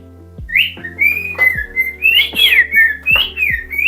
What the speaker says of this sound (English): my bird is down there